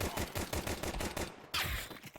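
Glock pistol fire in Counter-Strike 2 comes as a fast, loud volley of sharp shots in quick succession, then one more crack after a brief pause.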